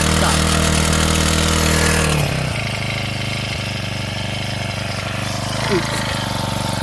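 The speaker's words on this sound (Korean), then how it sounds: "이렇게 한 방에 시동을 딱 겁니다." A four-stroke brush cutter engine catches and runs, loud and steady throughout, dropping to a lower, smoother idle partway through after its initial higher-pitched running, with no talk over it.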